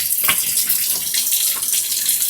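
Tap water runs steadily over a water filter cartridge as it is washed, a close, continuous splashing stream without pause.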